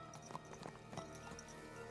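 Soft rhythmic hoofbeats clop along over a steady synthetic background hum, faint and even-paced.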